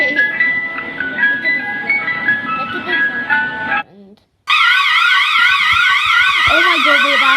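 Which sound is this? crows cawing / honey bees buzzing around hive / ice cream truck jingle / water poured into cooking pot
ice cream truck jingle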